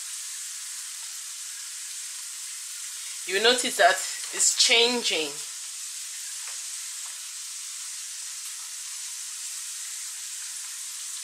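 A steady, bright, whistling sizzle of plantain slices frying in hot oil runs throughout, with a short stretch of speech partway through.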